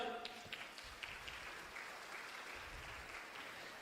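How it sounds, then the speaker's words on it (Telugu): An audience at a Vestige business seminar claps together in a steady, fairly even patter of applause that carries on for several seconds in a hall. "ఒక్కసారి వాళ్ళకి మనం గట్టిగా క్లాప్స్తో అభినందనిద్దాం."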